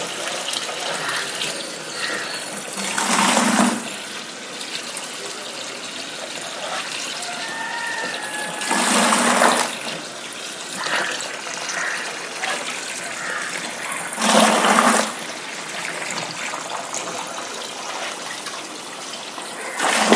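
Water poured into a new home fish tank, a continuous splashing rush with three stronger surges as more is tipped in, close and loud, no talk.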